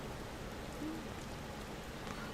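Rain-like patter sounds as a soft, continuous, even hiss throughout, moderately quiet, with no speech over it.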